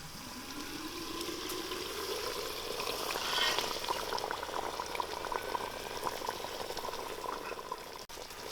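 Water poured into a pot of boiling village-style chicken rassa curry, a steady bubbling and liquid rush filling the whole stretch, close and moderately loud with no talking.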